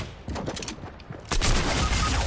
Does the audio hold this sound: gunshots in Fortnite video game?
yes